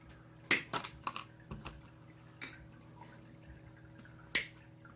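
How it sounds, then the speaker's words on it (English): Sharp plastic clicks as Warhammer miniature parts are snapped free from a plastic sprue, a quick cluster of close, crisp snaps followed by a few sparse clicks and one final loud snap over a quiet room hum. "That clicking is me dismantling a spree."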